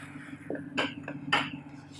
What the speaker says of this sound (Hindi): इन तमाम चीज़ों को अच्छी तरह से हम मिक्स कर लेंगे।